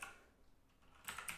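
Very faint typing on a computer keyboard, with a few soft scattered keystrokes and then a short burst of quicker clicks near the end.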